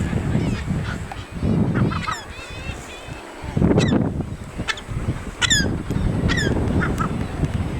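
Thick-billed murres call from a crowded breeding colony on Prince Leopold Island in the Canadian High Arctic, a dense, continuous layer of harsh growling calls with sharper honking cries rising above it throughout.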